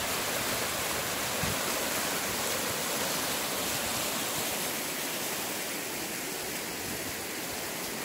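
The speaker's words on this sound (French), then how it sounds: "C'est une vraie cascade là-bas." Floodwater from an overflowing lake pours like a waterfall down a flooded avenue in Breuillet Port Sud, a steady, dense roar of rushing water holding constant throughout, with no voices.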